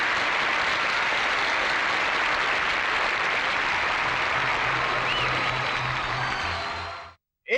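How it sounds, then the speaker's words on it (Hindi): A college award-ceremony audience applauds to welcome the chief guest, dense steady clapping that continues for several seconds before cutting off abruptly near the end. "एक बार फिर तालियों के साथ उनका स्वागत कीजिए।"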